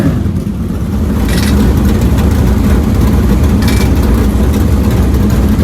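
Sprint car engines on a race track produce a loud, continuous low rumble and drone, with steady throttle and no voices.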